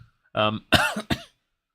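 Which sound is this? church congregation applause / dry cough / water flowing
dry cough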